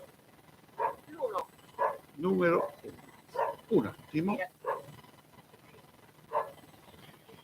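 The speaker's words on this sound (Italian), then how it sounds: "Il mio cane vuole entrare in diretta." A dog barks in short, separate bursts, some single and some in quick pairs, spread across several seconds in an indoor room while a person talks between and over them.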